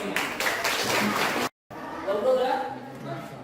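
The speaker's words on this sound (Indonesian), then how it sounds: "Tepuk tangan dulu semuanya." Students in a classroom give a short round of group applause, fairly faint and brief, cutting off abruptly before voices and chatter take over.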